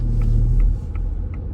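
A car moves through a junction on a driving test route in Raheny, a steady close engine rumble that eases after the first moment, with faint ticking like an indicator behind it.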